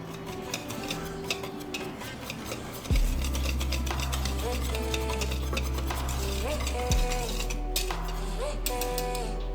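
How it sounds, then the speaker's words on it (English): A whisk stirs dry waffle batter ingredients, flour with baking powder, salt, cinnamon and nutmeg, in a bowl, giving a quick continuous rattling and scraping under a steady low background hum. "And let's get that all whisked up."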